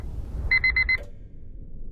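An alarm clock rings in four quick, evenly spaced electronic beeps, clear and close over a low background rumble, then stops abruptly.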